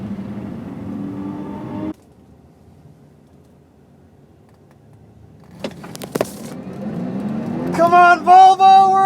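A Volvo XC90 T8 plug-in hybrid SUV accelerates hard while racing, engine note rising in pitch after a quiet gap, with excited voices and loud shouts over it near the end.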